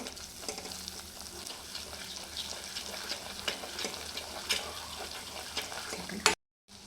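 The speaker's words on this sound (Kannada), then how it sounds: "ಸ್ವಲ್ಪ ಅರಿಶಿನ ಬೇಸಿಕ್ ಮಸಾಲ ಪೌಡ್ರನ್ನೆಲ್ಲ ಹಾಕ್ಕೋಬೇಕು ಒಂದೆರಡು ಸೆಕೆಂಡ್ ಫ್ರೈ ಮಾಡಬೇಕು" Turmeric and basic masala powders frying in a pan for paneer masala gravy, a steady close sizzle with stirring scrapes throughout, cutting off abruptly near the end.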